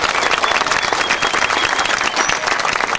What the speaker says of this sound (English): let's give our whales and the trainers a great big round of applause